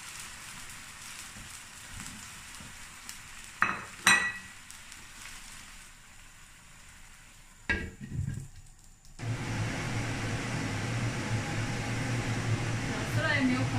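Potato chunks drop into a pot of dapanji chicken simmering in hot water, with two short splashing thuds followed by a steady, loud bubbling simmer.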